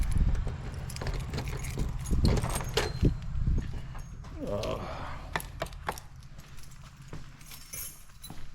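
A set of truck keys jangles and clinks with rustling handling noise, close by, during a garage repair of leaking engine head studs, with scattered knocks and low background rumble.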